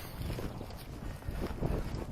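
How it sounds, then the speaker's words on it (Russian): Strong wind blows at a lake during a fishing trip, a low, rumbling buffeting on the microphone that swells and eases in gusts, close and continuous. "Да, ветер сегодня приличный."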